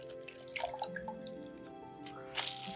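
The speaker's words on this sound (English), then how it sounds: "I'm gonna pour the water out" Water pours and drips out of a bag holding a wet felted wool ball, a short close trickle and patter over a faint background hum.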